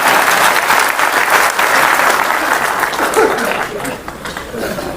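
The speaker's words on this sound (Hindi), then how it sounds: "Okay, ताली बजा दीजिए आप।" Sustained audience applause at a public gathering of railway employees, a dense and steady wall of clapping from many hands that fills the whole stretch and eases off slightly near the end.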